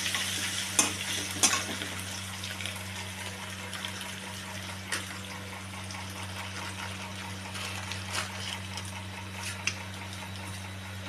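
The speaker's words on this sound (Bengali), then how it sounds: "এটা একটু হালকা গরম তেলে আমি ভালো করে নাড়াচাড়া করে একটু ভাজা" Chopped ginger fries in lightly warmed oil under gentle stirring, a soft continuous sizzle with a few scattered clicks of the utensil and a low steady hum behind it.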